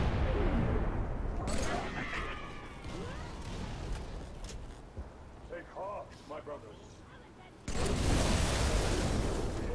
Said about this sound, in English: Get that battle rifle ready.